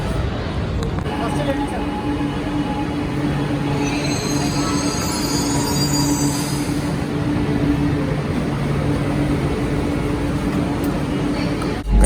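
A crowded metro train on the blue line runs steadily with a loud rumble and high wheel squeal rising midway, while people talk nearby.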